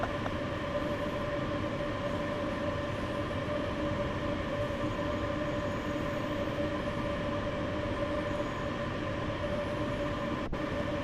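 A Class 187 train in Train Sim World 2 runs with a steady, continuous rumble and a sustained tonal drone from the traction motors, loud and unchanging throughout, with no talk.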